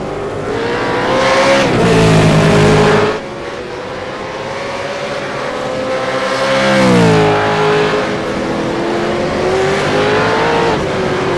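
V8 Veterans race cars lapping the Winton circuit, engines droning loud and close with rising and falling pitch as they accelerate, shift and pass, two strong surges standing out, no talk.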